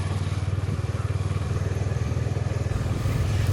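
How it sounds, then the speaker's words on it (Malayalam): A motorcycle ride on the way to Chittumala temple near Kundara, the engine thrumming in a steady fast pulse close to the microphone, with wind rush over it and no talk. "അതെ, ബൈക്കിലാണ് കേട്ടോ പോകുന്നത്."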